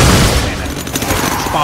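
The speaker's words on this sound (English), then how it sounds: "there you can hear the spike trap" Spike trap firing in the video game Meet Your Maker, a loud dense burst of crashing, rattling impacts that fills the whole moment with sharp percussive hits.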